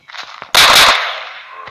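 Gunfire from a Minecraft Pocket Edition gun mod: a few light clicks, then one loud, close shot with a lingering tail.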